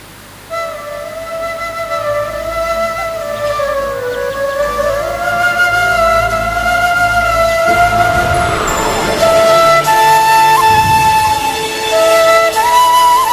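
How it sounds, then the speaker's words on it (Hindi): Soft, sweet bamboo flute melody played during a meditation yoga camp, sustained legato tones drifting over a gentle ambient drone, steady and alone with no talking. "इस बांसुरी की आवाज को सुनते हुए चलते हैं कहीं।"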